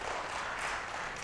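Faint, distant applause from an audience at a business talk, an even wash of clapping lasting about a second.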